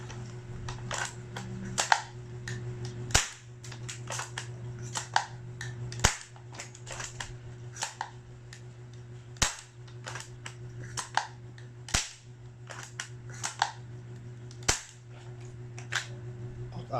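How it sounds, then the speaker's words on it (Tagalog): A Novritsch SSG24 airsoft sniper rifle test-fired indoors, giving sharp, dry snaps spaced a few seconds apart over a steady low hum, with lighter clicks and handling noises in between. "Ito yung No Bridge SSG 24. Itesting natin yung firing"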